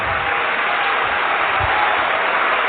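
A church congregation at a sermon breaks into sustained applause, a dense, even roar of many clapping hands that holds steady throughout without pause.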